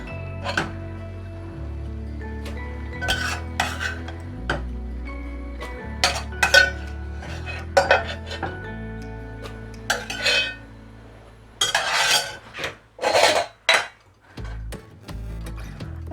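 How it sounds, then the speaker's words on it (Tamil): Cooked spinach greens with garlic mashed in a metal pot, bursts of clinking and knocking strokes against the vessel, some sharp and close, separated by quieter pauses, without voices. "இப்போ வந்து கீரையை கடைஞ்சிடலாம்."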